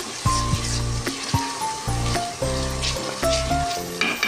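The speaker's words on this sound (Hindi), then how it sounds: "2 मिनट हमने इसको बस फ्राई करना है, लहसुन अदरक को" Garlic and ginger fry with onion for a dhaba-style lauki gosht, giving a close, loud sizzle in uneven pulses. Rhythmic tonal bursts sound alongside the sizzle.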